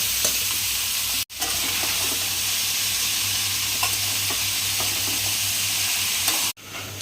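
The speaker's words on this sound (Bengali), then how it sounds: "আগে এঁচড়টা যেটা সেদ্ধ করে রাখা ছিল সেটা একটু ভেজে নেবে" Boiled green jackfruit pieces fry in hot oil in a wok, a loud, steady broadband sizzle holding throughout with light stirring scrapes and two brief dropouts, no voices.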